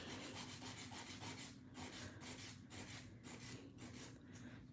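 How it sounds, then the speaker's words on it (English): A nail file shapes a fingernail into an almond form with steady, rhythmic back-and-forth rasping strokes, close and fairly quiet, with no talking. "we're filing the actual shape of the nail"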